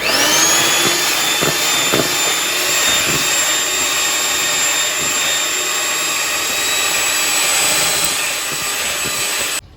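An electric mixer whirs steadily at high speed through cake batter with two eggs, a loud continuous motor whine with faint rattles from the bowl, stopping abruptly at the end.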